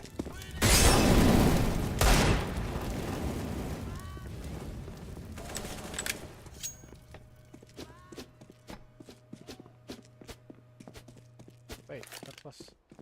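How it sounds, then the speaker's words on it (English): A flashbang grenade detonates in a tactical shooter game with a loud, bright burst, followed by a long ringing hum under scattered footsteps and small clicks. "Deploying flashbang."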